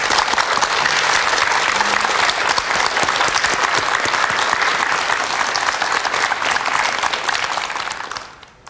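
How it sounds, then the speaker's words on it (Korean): A lecture audience gives a professor sustained, dense applause after a televised talk, loud and close, with many hands clapping steadily for about eight seconds before it tapers off abruptly. "한 주 동안 멋진 강의 펼쳐주신 장수환 교수님께 다시 한번 큰 박수 부탁드립니다."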